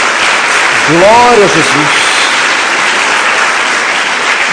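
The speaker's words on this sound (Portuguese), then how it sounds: "Dê uma salva de palmas a Jesus." A church congregation applauds during a worship service: a loud, dense, sustained wash of clapping that fills the whole stretch, with one voice shouting praise over it near the start.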